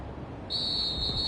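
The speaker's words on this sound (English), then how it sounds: "And now whistles and a flag" A referee's whistle blows a single long, shrill blast during an NFL game between the Colts and Denver, sounding loud and steady over a low crowd rumble.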